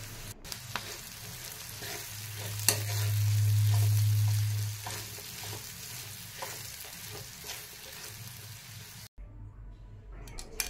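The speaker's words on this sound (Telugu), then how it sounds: "ఇప్పుడు ఇందులో ముందుగా మిక్సీ పట్టి పెట్టిన పౌడర్ని ఇందులో వేసుకొని మొత్తం కలిసేలా కలుపుకోవాలి" Bitter gourd fry being stirred with ground spice powder in a hot pan, a steady sizzle and frying hiss with scraping stir strokes throughout, a brief louder burst of sizzling midway, no talk.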